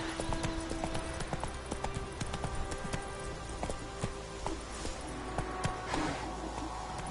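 Horse hooves clip-clop steadily in a PS4 video game, a brisk, even rhythm of hoofbeats against a busy game soundscape.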